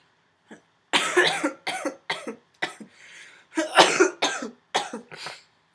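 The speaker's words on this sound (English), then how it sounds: "Excuse my cough." A person coughs repeatedly up close, a cluster of harsh bursts followed by another series of coughs, with brief quiet gaps between them.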